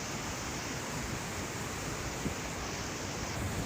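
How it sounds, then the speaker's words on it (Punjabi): A fast-flowing forest stream, swollen by rain, rushes in a steady, dense roar, close by, with no voices. "ਪਾਣੀ ਦਾ ਬਹਾ ਮੀਂਹ ਪੈਣ ਕਰਕੇ ਥੋੜਾ ਜਿਹਾ ਤੇਜ਼ ਆ"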